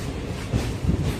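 The Amrita Express pulls out of Ramanathapuram railway station with a low, rumbling rail noise and faint wheel clatter, heard up close and steady for a moment.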